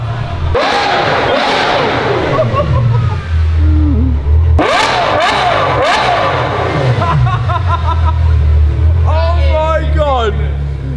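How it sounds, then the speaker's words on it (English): Loud 2019 Ferrari sports car exhaust revving in repeated sharp bursts over a steady deep idle, with excited voices and crowd noise mixed in throughout. "Then it was finally ready to hear the full exhaust."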